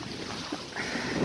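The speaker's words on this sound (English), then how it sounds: "It's really windy." Strong wind buffets a microphone outdoors on a hike, a steady broadband rumble that swells louder toward the end, with no talking.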